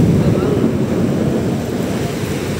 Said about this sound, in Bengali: খুবই বৃষ্টি, খুবই বৃষ্টি।